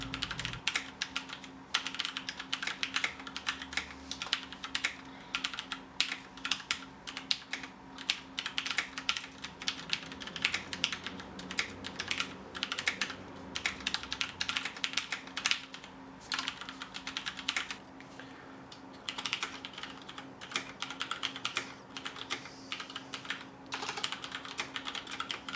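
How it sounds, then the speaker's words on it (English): Fast, continuous typing on a CM Storm QuickFire Rapid mechanical gaming keyboard, dense bright key clacks in an uneven rhythm, close and clear, running nonstop for over twenty seconds with short pauses. "While typing on this keyboard"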